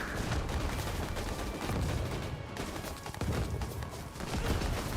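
Sustained gunfire from a war video game, a dense barrage of shots and blasts running continuously at high volume for the whole stretch with no pauses.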